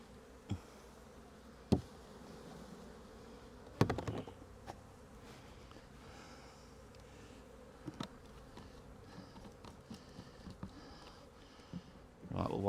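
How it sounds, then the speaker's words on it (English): Steady insect buzzing from many honey bees, including nurse bees on a hive frame, fills the background, with occasional handling knocks and thumps close by. "Plenty of nurse bees on there."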